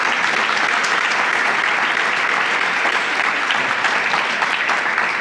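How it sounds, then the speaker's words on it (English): Steady, dense applause from an audience at an awards ceremony and 40th anniversary celebration, loud and continuous with no pause. "Let's give a round of applause."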